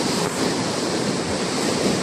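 Strong sea waves break and surge on the shore, a loud continuous roar of water with wind buffeting the microphone.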